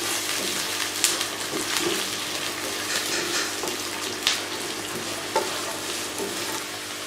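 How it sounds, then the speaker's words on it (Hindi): Onions, carrots and peas frying in a pan for aloo matar gajar, with steady close sizzling and occasional stirring scrapes and clinks throughout, no talking. "प्याज के साथ गाजर और मटर को भी मैं थोड़ा सा भून लूँगी।"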